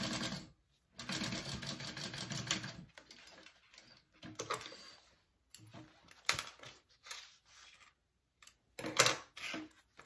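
A sewing machine basting fabric for a crossbody wallet runs in short stitching bursts separated by pauses, close and moderately loud, with no talk.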